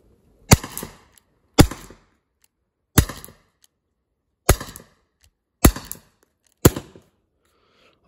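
Six sharp shots from an HDP 50 pistol firing balls, spaced about a second apart in a steady rhythm, each a loud close crack with a short rattle after, with silence between.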